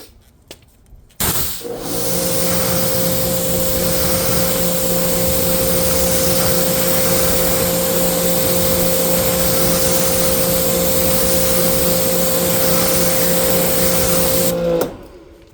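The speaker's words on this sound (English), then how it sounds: "we're going to rinse them off like it says to, foam it, and then we will see how well it does on wheels" A pressure washer sprays down heavily soiled car wheels, making a loud, steady hiss of water over a constant motor hum that starts abruptly and runs unbroken for about thirteen seconds before cutting off, with no speech.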